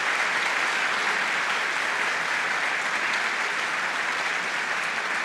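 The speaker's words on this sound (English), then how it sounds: "Please give yourselves a quick round of applause." A large audience at a televised Q&A forum in Penrith claps steadily in a broad, even round of applause, moderately loud and unbroken, with no talking over it.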